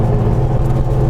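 A 1970 Porsche 911 2.2 S rally car's engine hums with a steady, loud low rumble and whir, heard close and continuous for a brief moment with no talk.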